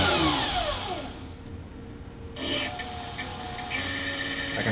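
An electric vehicle motor driven through a controller at low throttle, giving a whining tone that sweeps down and steadies, then a fainter electrical hum with brief higher chirps, close and moderately loud.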